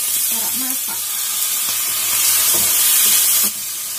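Cooking rice wine splashes into a hot pan during Taiwanese home cooking, setting off a loud, steady sizzle and hiss that swells near the end before dropping back, with a few utensil knocks and no talking.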